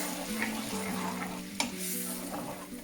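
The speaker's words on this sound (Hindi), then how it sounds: "now I have added the पिसा हुआ टमाटर, तो इसको अच्छे से स्टर करके" Tomato sauce stirred into fried onions in a pan while making a homemade whole wheat veggie pizza, giving a steady close sizzle with soft scraping stirs and one sharp clack of the spoon partway through.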